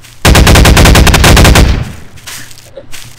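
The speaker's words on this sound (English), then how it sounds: "This gun is ineffective!" A quick burst of automatic fire from a gun in the Garry's Mod video game, loud rapid shots for about a second and a half, then trailing off into quieter game noise.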